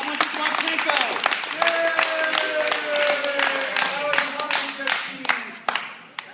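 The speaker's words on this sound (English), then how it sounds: "Now clap. Applause now." Audience applause and clapping at a live podcast taping, with cheers and several sharp claps standing out over continuous voices talking and laughing throughout.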